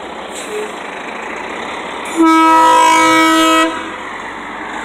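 A loud horn blares for over a second over a steady low rumble, likely a train passing nearby.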